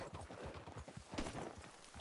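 Horse hooves clip-clop in a steady walking rhythm through Red Dead Redemption 2, fairly close and quiet, with soft ambient background and no talk.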